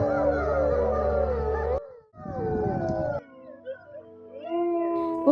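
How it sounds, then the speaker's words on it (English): Wolves howl in long, wavering tones, several voices overlapping at first before a shorter solo howl and a final rising howl, loud and close with brief pauses in between. "Wolves don't howl for just one reason."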